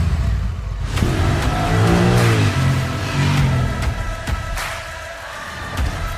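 A cruiser-styled motorcycle with sport-bike tuning and over 90 horsepower revs hard through quick upshifts, rising engine whine repeating in close, loud bursts.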